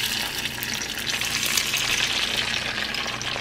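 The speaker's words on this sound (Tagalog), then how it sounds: "prito naman natin ngayon itong ating egg whites kasi sayang naman" Egg whites fry in a pan, giving a steady, close, even sizzle that crackles across the whole stretch with no voices.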